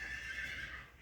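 A foal gives a short, faint whinny, a thin high neigh lasting about a second with no voices around it.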